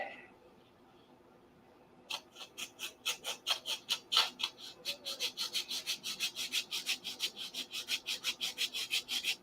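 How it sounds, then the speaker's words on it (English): A model airplane cowl for a 1/2A Cobra being hand sanded up close: a quiet start, then a long, steady run of quick rhythmic rubbing strokes that grow denser and slightly louder toward the end. "It looks like it's got to sand right down to the line."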